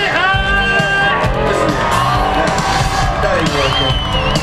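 A loud crowd at an outdoor freestyle show in Gien in 2015 shouts, whoops and cheers continuously, with many voices overlapping in a dense, close roar.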